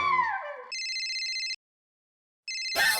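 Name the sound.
telephone ringing, Daya's phone call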